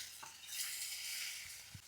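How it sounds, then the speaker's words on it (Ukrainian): Chicken wings frying in hot oil in a pan: a steady, soft sizzle runs throughout, with a few faint knocks and clinks, and no voices. "Так, сковорідка розігрілася, виставляємо крила."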